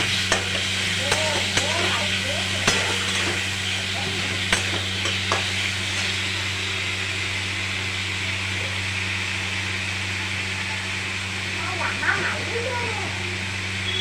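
Spice masala for egg curry sautés in a pan, a continuous sizzle with repeated scraping stirs and occasional clinks, accompanied by a low steady hum from a nearby appliance.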